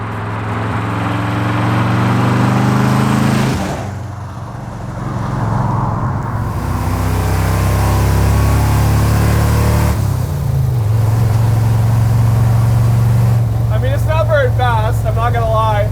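The engine of the Hero truck from Fast and Furious 4 while driving, a loud, close rumble that revs, drops off briefly as gears shift and climbs again, with a voice speaking over it near the end.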